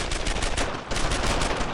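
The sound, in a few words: covering gunfire in Brothers in Arms video game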